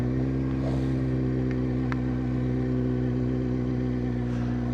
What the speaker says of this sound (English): Get the bike moving.